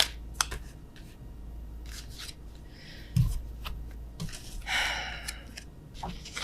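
Tarot cards being shuffled and flipped during a reading: light, scattered snaps and soft rustles at close range, with a couple of sharper card slaps and no talking.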